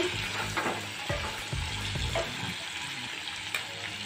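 Masala chili paste for an onion curry sizzles and fries in a pan up close, with a steady hiss and a few soft stirring scrapes.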